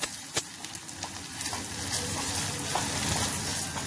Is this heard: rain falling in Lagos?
no